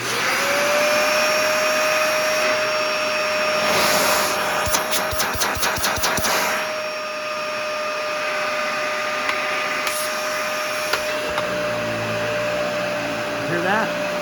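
A Dyson Ball upright vacuum cleaner (Total Clean, Multi-Floor or Animal model) runs steadily and loudly up close with a constant motor whine, with a burst of clattering and rapid knocks in the middle before it settles back to a smooth hum.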